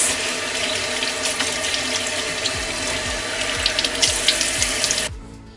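Running water at a bathroom sink while someone rinses their face, a steady close splashing stream with small bursts of splatter, cutting off abruptly near the end.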